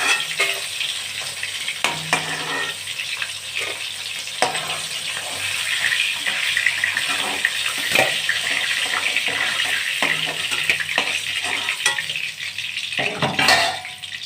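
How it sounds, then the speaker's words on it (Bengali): Hilsa fish frying in plenty of oil in a pan, a steady close hiss and sizzle with occasional clinks and scraping of a utensil, no talking. "মাছটার অনেক তেল হয়েছে, মাছ ভাজা হয়ে গেছে,"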